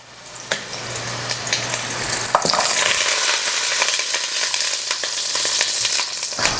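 Ginger and garlic sizzle in hot oil in a pot, a loud, bright crackle swelling after a stir and holding steady, with occasional utensil scrapes and knocks.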